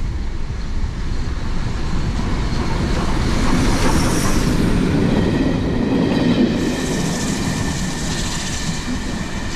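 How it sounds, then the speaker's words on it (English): Steam locomotive 35028 passes a station platform on the Hounslow Loop Line, hauling a single carriage, with a loud continuous rolling rumble and rail clatter that swells and fades. "It's a steam train, why wouldn't you?"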